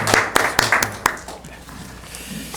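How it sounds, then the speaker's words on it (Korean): A church congregation claps together during a Presbyterian worship service: a few sharp, scattered claps ring out close by in the opening second, then thin into a soft, fading patter. "우리 다 같이 한번 박수 한번 치겠습니다"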